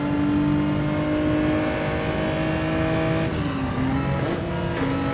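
A race car's engine screams close to redline in a racing simulator at Yas Marina, a loud sustained whine that dips and climbs again through shifts near the end.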